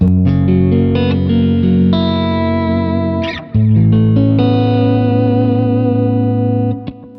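Distorted electric guitar through a Helix amp-modeler preset with reverb and delay switched off plays sustained chords and a melodic line. The tone is full and thick. There is a short break in the middle and a string squeak near the end.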